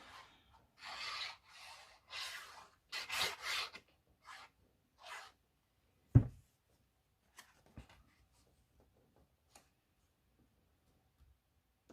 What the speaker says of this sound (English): Burnish the sides.